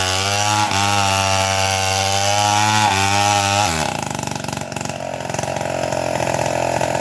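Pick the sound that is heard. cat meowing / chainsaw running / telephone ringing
chainsaw running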